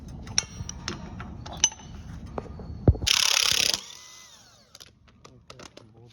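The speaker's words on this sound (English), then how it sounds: "this is 1-inch socket that fit properly" A 1-inch socket loosens the front wheel screws on a Raymond reach forklift, with scattered metallic clinks and clicks around a brief, loud mechanical whirring burst, then lighter tool handling.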